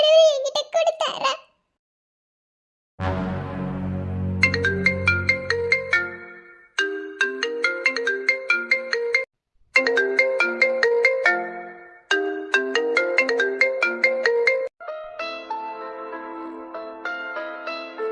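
A phone ringtone plays a bright repeating melody, loud and close, in several rings separated by short gaps, with no other sound around it.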